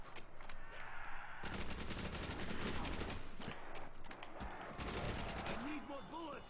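Dense rapid gunfire from the Wunderwaffe and other weapons in Black Ops Zombies on the Shi No Numa map, with volleys of shots and bursts of machine-gun fire filling the mix alongside game effects.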